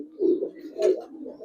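Khaki Giribaz pigeons coo in two low, throaty, rolling swells, near and moderately loud, with no speech.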